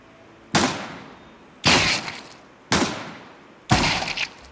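Four pistol shots ring out in Counter Strike 2, each a loud, sharp crack with a short decaying tail, spaced about a second apart.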